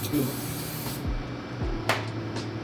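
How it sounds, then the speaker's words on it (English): A short hiss of cooking spray sounds over faint background hum, with a couple of soft clicks and a quick second burst near the end. "We'll spray the pan."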